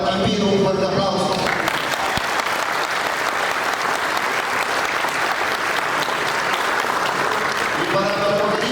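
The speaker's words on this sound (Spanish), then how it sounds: "pido un fuerte aplauso" Crowd at a political speech in Peru bursting into strong, sustained applause, a dense roar of clapping lasting several seconds before a speaking voice returns near the end.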